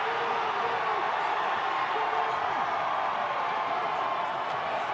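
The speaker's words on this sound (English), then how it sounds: "Crowd gets loud." A broad, steady crowd roar at a 2021 NCAA men's soccer penalty-kick shootout between West Virginia and Virginia Tech, moderately loud and continuous with faint cheers blended in.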